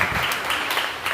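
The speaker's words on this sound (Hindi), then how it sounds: "वेंकटेश भाई के लिए जोरदार ताली" Church congregation applauding after a sermon, a brief burst of dense, loud hand clapping from many people in the hall.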